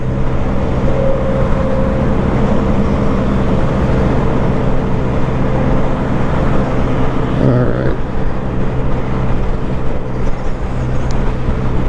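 A 2022 Honda Grom motorcycle cruises down a highway in fourth gear, its small engine a steady drone beneath loud, constant wind and road roar throughout, with a brief shift in tone partway through.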